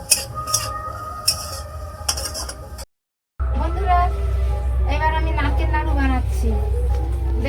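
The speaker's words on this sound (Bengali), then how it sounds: "এই আলুটাকে একটু মাখা মাখা করে থেতো করে দিতে হবে খুন্তি দিয়ে" A metal spatula clinks and scrapes against a pan while boiled potatoes are mashed for a Bengali potato-filled pyaraki, someone talking over the clatter.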